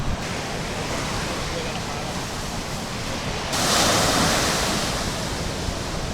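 Ocean surf rolls onto a remote, isolated coast where desert meets the sea, a steady broadband wash of breaking waves that swells louder about midway, with wind noise and no talking.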